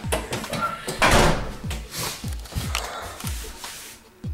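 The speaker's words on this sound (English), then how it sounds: "So that's the upstairs door." An upstairs door in a house in Tokyo opens with creaks and soft knocks, followed by a series of rhythmic low thuds like footsteps, close and moderately loud.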